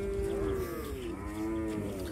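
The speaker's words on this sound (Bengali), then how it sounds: "এখন খুবই সকাল, গরু আসতেছে হরজতপুর হাটে।" Cattle lowing at the Hazratpur cattle market early in the morning, one long deep moo followed by a second, loud and close against background bustle.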